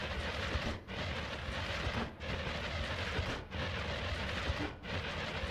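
Rumbling explosion bursts in the pixel-physics video game Noita, a dense continuous roar with brief dips about every 1.3 seconds, loud and alone.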